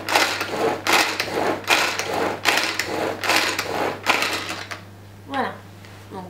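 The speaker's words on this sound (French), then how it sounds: "Nous allons refermer l'extra chef correctement et nous allons mixer la préparation." A Tupperware Extra Chef manual chopper whirs in rhythmic pulls as it mixes a crousty party preparation with butter, about six strong repeated bursts close to the mic before stopping, with a brief voice after.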